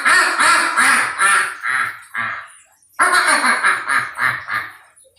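A human voice imitating a duck, giving a rapid run of nasal quacks in two loud bursts separated by a short pause, close and clear with no other sound around it.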